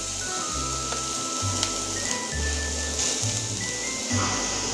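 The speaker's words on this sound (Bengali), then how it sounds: "তেলটা গরম হয়ে গিয়েছে এখানে আছে দেখুন সেই গাজর এবার গাজরটা ছেড়ে দিচ্ছি" Grated carrots hit hot oil in a kadai (wok) for carrot halwa, giving a continuous hissing sizzle at moderate loudness over a low, pulsing background hum.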